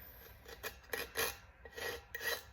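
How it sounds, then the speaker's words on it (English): A tool scrapes along the edge of a glitter tumbler cup in a run of quick, rasping strokes, close and fairly quiet, with irregular pauses between scrapes and no talking. "I'm scraping the edge of the cup, that's why it's kind of loud"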